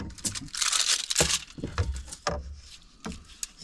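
Wrapping material being torn and crinkled by hand in a few rough bursts, up close and fairly loud, with short pauses between rips and no talking.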